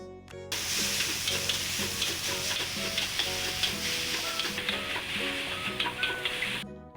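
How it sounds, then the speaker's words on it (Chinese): Minced meat and shiitake mushrooms stir-fry in a pan for Nyonya rice dumpling filling, a steady close sizzle broken by repeated rhythmic scrapes of the spatula. "我们就可以把肉碎倒下去，然后继续的翻炒"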